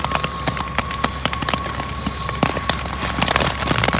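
Rain on a tent on a mountain campsite patters as a dense, irregular spatter of sharp drops against the fabric, close and steady throughout with no talking.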